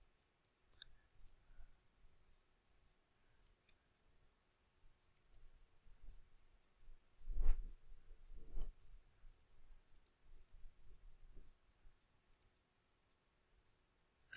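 Mouse clicks from a computer being used to browse a church website theme demo, a handful of sharp, quiet clicks spread out, with a couple of louder thumps midway, over faint room noise and no talking.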